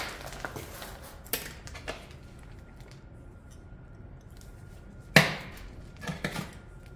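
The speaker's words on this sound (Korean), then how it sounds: "굵은 뿌리들 잘라주시고요." Thick roots of a Hallasan elm bonsai being cut during repotting, a few scattered snips and crunchy cuts, one sharp and louder, close up over a quiet background without speech.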